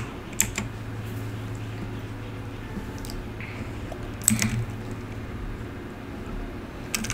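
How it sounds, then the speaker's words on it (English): Code typed on a computer keyboard, sparse soft key clicks with a couple of sharper taps, close but faint over a steady low background hum. "we're typing in the code."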